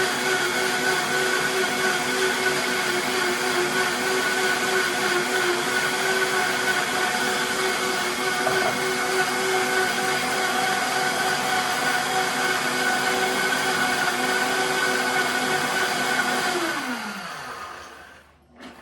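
A Vitamix blender blending cauliflower mash roars continuously at high speed for a long stretch, then the motor winds down and its pitch drops as it stops.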